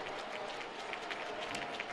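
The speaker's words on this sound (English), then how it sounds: "Swartz gets up to an applause there from the supporters section" Steady applause rises from the supporters section of a crowd at a New Mexico United versus Colorado Springs Switchbacks soccer match, a continuous distant wash of clapping with no clear voices over it.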